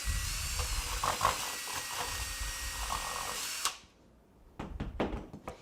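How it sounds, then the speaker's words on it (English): A power drill with a Forstner bit whirs continuously at close range, then cuts off abruptly, followed by a few short bursts of knocking and handling noise. "But I'm going to turn my drill."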